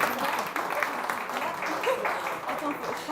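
An audience at a talk on self-esteem claps in a moderate, scattered burst, with voices murmuring over the clapping.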